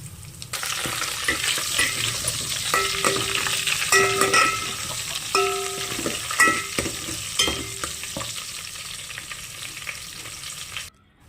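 Coarsely pounded ginger-garlic paste fries in hot oil with lentils for Rayalaseema sambar, a steady loud sizzle broken by metallic ladle scrapes and clinks of stirring against the pot, with no talking.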